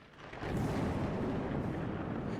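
A deep rumbling roll of thunder for a tabletop role-play scene, swelling in after a brief quiet start and then sustained as a heavy, broad roar.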